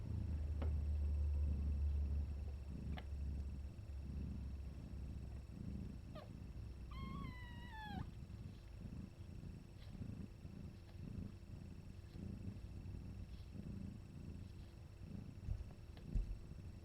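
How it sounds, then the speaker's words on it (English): A mother cat purrs steadily up close in a low, soft rumbling rhythm that continues throughout, with a brief high squeaky chirp partway through. "Mama's purring."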